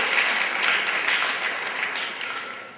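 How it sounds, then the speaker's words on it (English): A school audience at an anti-bullying presentation at Two Harbors High School applauds a student for sharing his story; steady, dense clapping throughout, slowly fading. "Let's give Skylar a round of applause for speaking up and sharing his story."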